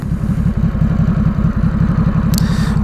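A 2017 Ducati Supersport S motorcycle idling in neutral at the roadside, its engine giving a loud, close, steady, lumpy low throb with a regular pulsing beat and slight mechanical clatter.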